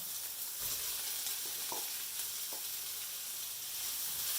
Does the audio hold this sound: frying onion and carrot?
yes